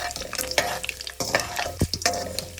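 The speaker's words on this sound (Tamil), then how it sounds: "முதல்ல இந்த பருப்பு கொஞ்சம் ஸ்லைட்டாக சவக்கும்" Dal roasting with cinnamon, cardamom and cloves in a pan, stirred by a utensil that scrapes and clatters in irregular bursts over a soft, continuous sizzle. The sound is close and fairly loud.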